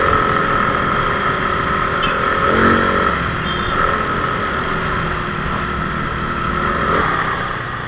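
A motorcycle rides through Manila traffic with a steady, close engine drone that holds a sustained tone throughout. Brief higher tones from surrounding traffic come through now and then.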